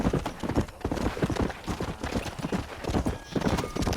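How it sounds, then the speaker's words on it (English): Horse galloping in the Red Dead Redemption video game, a fast continuous clip-clop of hooves with a brief whinny-like tone, steady and fairly close throughout. "Llamemos al caballo."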